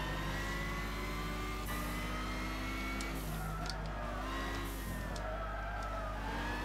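Race car engine lapping Brands Hatch in Gran Turismo 6, a steady loud drone with shifting pitch as it revs up and down through corners, continuous and close throughout.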